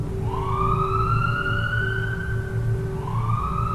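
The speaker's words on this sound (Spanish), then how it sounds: "se escucharon patrullas pasar por afuera de la casa" Police sirens wail with rising and falling tones as vehicles pass, over a steady low rumble of traffic.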